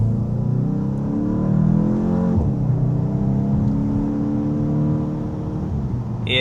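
A car drives hard through road bends, its engine note steady and close with rising harmonics as it accelerates, a brief dip midway before pulling again, with no talk over it.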